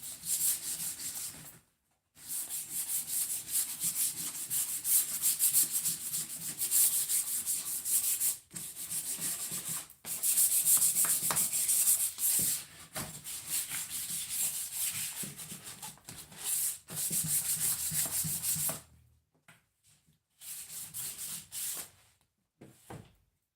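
Painted furniture is sanded by hand with 180 grit sandpaper, close scratchy rubbing strokes in long bursts separated by short pauses.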